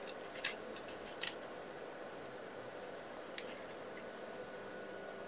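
A small pair of scissors cutting paper during a card-making class: a few faint, quick snips spaced across a quiet background hiss.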